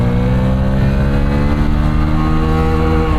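A 2026 Hero HF Deluxe Pro 100cc motorcycle accelerates under load, its engine drone loud, close and continuous with a steady rising hum throughout.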